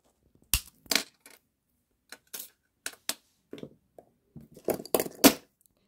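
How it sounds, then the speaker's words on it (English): Jewellery wire for wire wrap earrings is snipped at the back with cutters, giving a series of sharp, close metallic clicks and snaps in short bursts separated by quiet pauses. "I'm going to cut these wires at the back."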